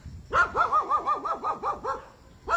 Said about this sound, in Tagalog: may alagang aso